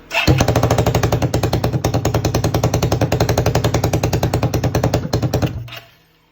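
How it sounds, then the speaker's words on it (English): A 1996 Suzuki Quad Runner 250 engine fires up and runs with its exhaust removed and no air filter, a loud, rapid, harsh single-cylinder chatter that holds steady for several seconds before cutting off abruptly. "we're gonna see if it wants to fire off"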